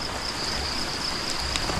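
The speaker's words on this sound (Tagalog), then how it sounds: "Sana tumigil yung ulan." Rain falls steadily in a continuous hiss, with a high insect-like tone ringing through and a few louder drips or splashes near the end.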